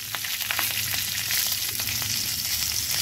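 One dried red chili and one green chili tempering in hot oil for a dal with drumsticks, a steady close sizzle and crackle with faint stirring.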